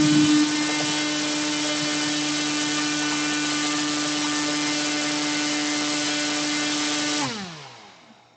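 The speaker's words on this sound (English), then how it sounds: "So let's just look at the operation of this motor." A small DC motor on a 7.24-volt supply spins at high speed with a loud, steady whine, then winds down as it switches off near the end.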